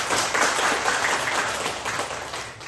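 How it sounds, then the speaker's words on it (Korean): A church congregation applauds together, a dense, steady burst of clapping from many hands filling the room for a few seconds without pause. "우리 박수로."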